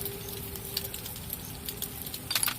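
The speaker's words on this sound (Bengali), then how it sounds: "এবার এটা হালকা আঁকে হতে ভাজা হতে থাকবে আস্তে আস্তে এই পোচটা একটু শক্ত শক্ত ভাজা হবে" An egg cracked into a wok of hot white oil, sprinkled with salt and pepper, fries slowly into a firm poach, giving a faint, steady sizzle dotted with soft scattered crackles.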